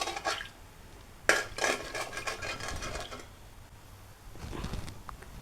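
Egg mixed into a dragon fruit dessert mixture in a bowl, a few scraping and clinking strokes of the utensil against the bowl in short bursts separated by quieter gaps, close by.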